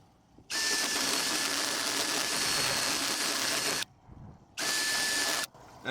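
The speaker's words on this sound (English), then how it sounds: "a hole a little bit bigger at the bottom, so I'm going to just grind it in place" A power tool grinds a hole larger in place on a 3D-printed boat fitting during a refit, running loud and steady for about three seconds, stopping briefly, then making a second shorter burst.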